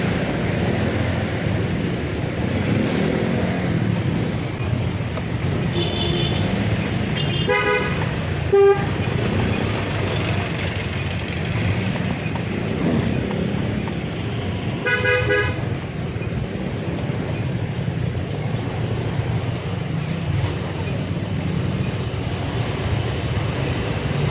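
Steady road traffic rumbles near a pet market in Malabon, with several short car horn toots standing out, one sharp beep midway and another cluster later.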